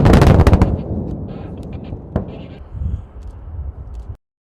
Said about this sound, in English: Commence detonation.